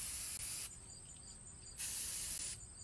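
An aerosol spray paint can hisses in two long bursts, loud and close, broken by a brief pause while canvas is sprayed for hydro dipping.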